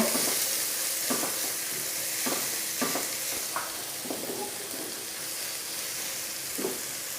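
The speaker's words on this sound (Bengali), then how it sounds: "আপনার মরিচ পেঁয়াজটা ভাজবেন যতক্ষণ পর্যন্ত না পেঁয়াজ থেকে গন্ধটা চলে না যায় ততক্ষণ পর্যন্ত ভাজতে থাকবেন এটাকে।" Chopped onions and green chilies frying in oil in a pan, a continuous close sizzle with repeated scraping stirs every second or so, steady and without any talking.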